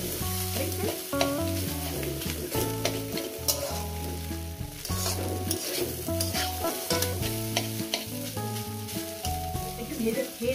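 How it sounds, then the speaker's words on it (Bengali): Chopped boiled egg with vegetables being fried and stirred in a pan, a constant sizzle punctuated by frequent spatula scrapes, close and steady, while background music plays throughout. "কেটে নিয়ে আরও আমি এটাকে ভাজবো"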